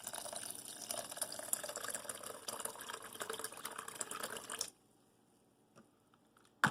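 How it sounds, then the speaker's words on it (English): Water pours steadily into a porridge pot with dulse seaweed for about five seconds, then stops, leaving near silence with a couple of faint knocks and a clink at the end. "And then I just add the amount of water required."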